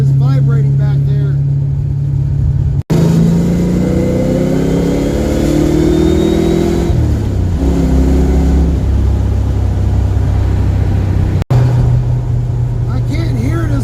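A car's engine and exhaust run steadily at close range, with the exhaust pipe and chassis vibrating. The drone holds fairly constant and shifts pitch slightly midway.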